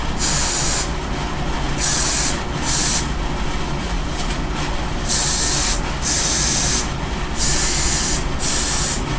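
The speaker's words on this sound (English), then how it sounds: "let's just spray the inside." A spray bottle misting the inside of a wig in repeated bursts of close, loud hiss, about seven sprays of varying length separated by short pauses, with no talking.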